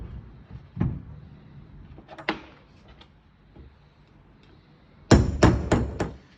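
A hammer taps out the last of a wheel bearing from a trailer hub: sharp, close metallic knocks, a few spaced single strikes, then a quick cluster of four ringing hits near the end.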